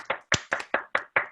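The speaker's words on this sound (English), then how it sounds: "if everybody can unmute yourselves and just give a round of applause" Six distinct handclaps in an uneven rhythm from participants unmuted on a Zoom call, close and fairly loud, with no talking.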